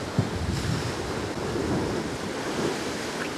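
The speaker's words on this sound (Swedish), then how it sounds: "det blåser som fan" Strong coastal wind roars against the microphone over steady crashing surf, a dense, unbroken rush with no voices.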